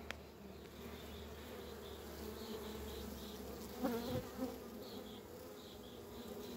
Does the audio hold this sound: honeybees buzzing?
yes